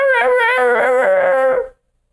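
A dog howls and whimpers in a close, loud, wavering cry of rising and falling pitch that lasts about a second and a half and then stops abruptly, leaving silence.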